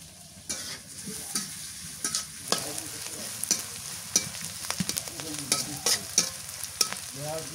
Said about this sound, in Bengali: এই যে পেঁয়াজ মরিচ বেশি ভাজা যায় না